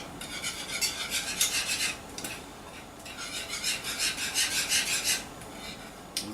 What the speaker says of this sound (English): we're just going to whisk our seasonings in here